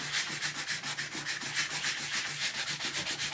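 Steady back-and-forth rasping of a 150-grit sanding block on wooden furniture, rhythmic strokes about four per second, close and continuous with no talking.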